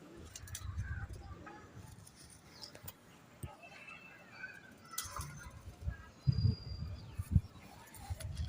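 A bonded breeding pair of pigeons coos in low, soft bursts, the calls faint and intermittent against outdoor background noise, with a few louder thumps and rustles near the end.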